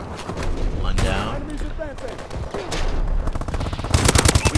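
Rapid automatic AK-12 rifle fire in a multiplayer video game, bursts of gunshots with in-game effects mixed under talking voices, growing louder and denser near the end.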